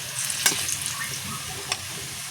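Chopped onions fry with a little sugar in a pan, giving a soft, even sizzle with a few light clicks of a stirring spoon, close but quiet.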